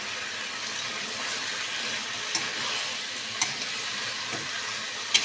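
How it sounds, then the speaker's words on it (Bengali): Boiled banana flower (mocha) is sautéed with spices on a low flame, a continuous soft sizzling hiss with a few faint scraping stirs of the spatula spaced across the clip. "মোচাটা এবার দিয়ে আমি এটাকে আরও অনেকক্ষণ টাইম ধরে আস্তে আস্তে লো ফ্লেমে খুব ভালো করে কষাবো"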